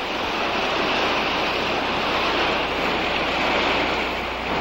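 Continuous roar of sea water and surf as the tide rises along a shoreline. The broadband wash holds steady throughout, with wind noise mixed in and no talk.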